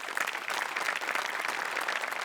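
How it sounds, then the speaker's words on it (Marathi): Audience applause on a Marathi comedy show, a steady wash of many hands clapping at moderate level without pause, no voices over it. "त्यांच्यासाठी एकदा टाळ्या वाजल्या पाहिजे."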